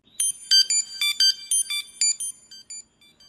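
A browser notification alert test sound plays alone: a bright electronic ringtone of about a dozen short, evenly spaced beeps that fade gradually toward the end.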